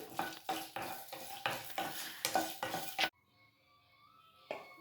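Dried red chillies are lightly roasted in a little oil in a pan, with about eight rhythmic scraping stirs up close, then a near silence broken by one last scrape.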